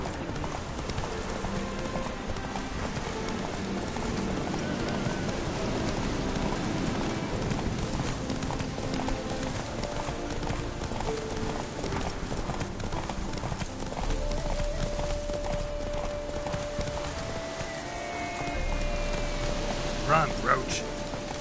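Hooves of Roach, a horse, gallop in a steady clip-clop rhythm through rain in a video game, with game music and occasional voices over the pounding.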